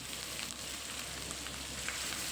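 Marinated chicken frying in a pan of hot oil gives a steady, even sizzle that holds at one level throughout, close by and with no talk.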